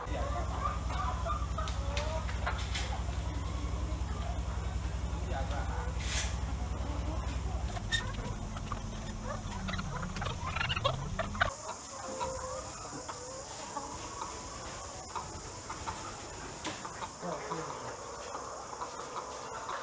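Chickens clucking in battery cages on a poultry farm, including Fuani birds from Cote d'Ivoire and birds from Holland, with dense continuous clucking and a steady low mechanical hum that cuts off partway, leaving nearer scattered clucks over an insect-like buzz.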